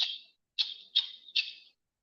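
An OTF (out-the-front) knife from Trac Knives being opened and closed, giving four quick, crisp metallic snaps with short ringing tails, one spaced apart from a tight group of three, close and alone.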